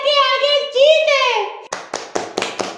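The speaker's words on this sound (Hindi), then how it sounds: "बहुत ताली बजती रहनी चाहिए।" A voice speaks or sings in a drawn-out, tonal way at a comedy poetry show, then stops, and about half a dozen separate, fairly loud hand claps follow at an uneven pace.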